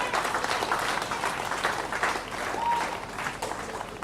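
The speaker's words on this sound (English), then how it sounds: "I think we deserve a round of applause for that." An audience at a Trinidad and Tobago steelband celebration, honouring a large-band finals qualification, breaks into steady applause, a dense, even patter of clapping that carries through to the end.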